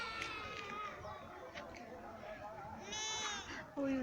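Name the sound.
lamb bleating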